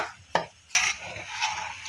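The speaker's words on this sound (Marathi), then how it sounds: "बघा, ही पावडर आपल्याला सारखी हलवत राहायची आहे, नाहीतर खालनं करपते।" A spoon scraping and knocking against a pan while milk powder is stirred and roasted over low heat, with two sharp clinks followed by softer scraping strokes.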